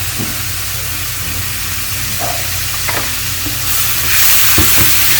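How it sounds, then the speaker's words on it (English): Garlic sautés in oil in a pan, giving a steady, close sizzle and hiss with a few light stirring scrapes. No one speaks. "I just want to saute that garlic off a little bit"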